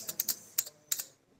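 Keystrokes on a computer keyboard while entering data in Tally accounting software, about six sharp clicks in quick uneven succession, close and fairly quiet, ending with a press of the Enter key and then quiet.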